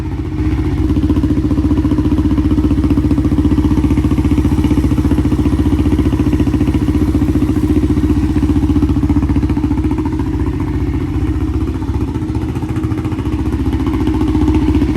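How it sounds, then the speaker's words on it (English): An Arctic Cat DVX400 ATV engine idles steadily and loudly nearby, a constant low throbbing rumble with a slight rattle, no voices. "Man, that engine's quiet."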